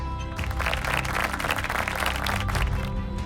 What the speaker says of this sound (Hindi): जोरदार तालियों की गड़गड़ाहट से स्वागत कीजिए हमारी novices का।